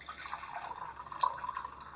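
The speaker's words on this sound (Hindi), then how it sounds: "आप कोई भी गिलास ले सकते हैं और उसमें आप यहाँ पर इसको पानी डालिए" Water being poured into a glass: a soft, close trickle and splash of liquid running steadily for about two seconds, faint and heard alone with no speech.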